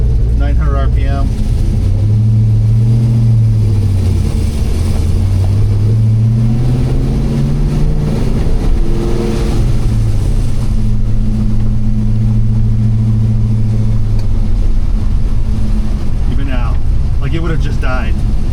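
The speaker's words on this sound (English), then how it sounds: "at least when I let off the gas, it comes down to an idle" A V8 car tuned with a Holley Terminator X drive-by-wire system revs up with rising and falling pitch, then drops back to a slightly high idle around 900 to 1,000 RPM, loud and close, while someone talks over it.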